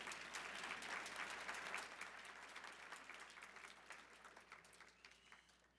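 An audience at a science talk at the St. Louis Science Center bursts into dense, lively applause that gradually tapers off over several seconds.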